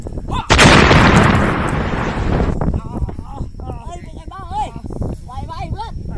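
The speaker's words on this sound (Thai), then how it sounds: "ระเบิดระเบิด" A loud blast of noisy explosive roar bursts out and rumbles for a couple of seconds, then shouting voices take over.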